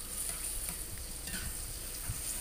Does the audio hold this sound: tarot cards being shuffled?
no